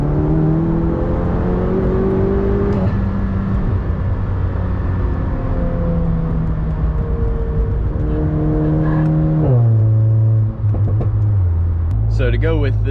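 A Volkswagen MK7 GTI with a full bolt-on tune accelerates hard through several gears, the engine droning and climbing in pitch, then dropping at each shift, loud and steady from inside the cabin, with a voice talking over it.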